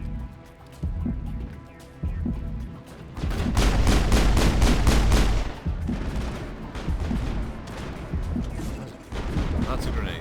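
Enemy gunfire in Mass Effect, bursts of rapid shots with a heavy, sustained volley in the middle, loud and close amid game combat noise, with short pauses between bursts.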